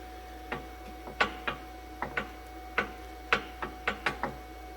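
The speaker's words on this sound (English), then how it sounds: "Let's grease this U-joint." A grease gun greasing a U-joint on a Honda CR-V gives a string of quiet, close mechanical clicks and squeaks at irregular intervals, about a dozen strokes with no talking.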